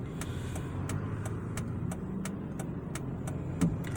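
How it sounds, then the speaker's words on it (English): Light rush hour road traffic passes along a street, a steady low rumble of car engines and tyres at moderate distance with no talking. "this is rush hour traffic"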